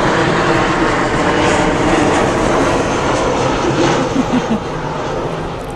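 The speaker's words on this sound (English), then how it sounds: "the aircraft are still flying in and out, so might have to pause there" Steady, loud drone of aircraft engines passing overhead near a home vegetable garden, a continuous broadband roar that swells slightly and then eases off over several seconds, with no talking.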